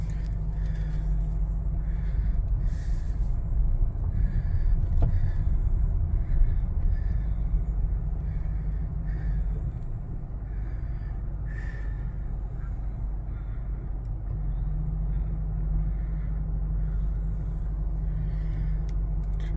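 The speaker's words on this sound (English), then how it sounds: "this is me driving through a tree" A car rolls slowly through a drive-through redwood tree, with a steady, low engine and road rumble throughout and a few faint knocks and clicks.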